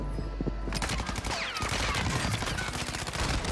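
Rapid automatic gunfire from a weapon in Warzone, a fast dense burst of shots with crisp cracks that keeps firing continuously for several seconds.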